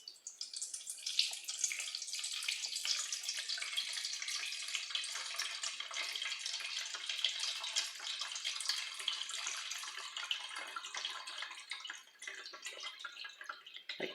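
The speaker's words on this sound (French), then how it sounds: "on va faire couler l'alcool dessus" Alcohol poured over a homemade beehive varroa mite test, a steady trickling, dripping liquid stream running continuously and close up for the whole stretch, no voices.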